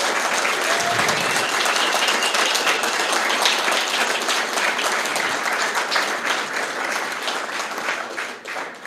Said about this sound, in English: I'd really like to hear a really warm applause for both candidates today.